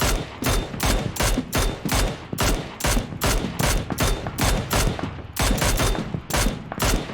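Rapid bursts of automatic gunfire from a shooter video game, dense volleys repeating steadily throughout with only brief gaps between them, loud and close.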